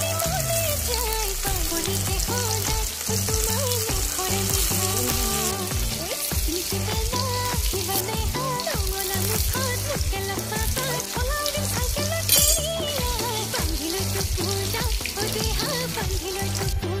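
Tomatoes fry in hot oil for an egg curry, giving a steady, close sizzle that lasts throughout, with a tonal, music-like layer underneath.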